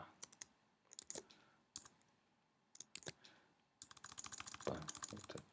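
Someone types on a computer keyboard in irregular bursts of close, crisp clicks, with a short pause before a faster, denser run of keystrokes.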